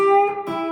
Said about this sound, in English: So if we added a hammer-on articulation to that with a bend, it would sound like this.